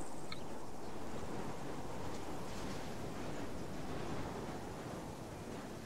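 Wind blows steadily across an open landscape in the military shooter ARMA 3, a dense, even roar like rushing air or distant surf that holds at one level throughout, with no voices.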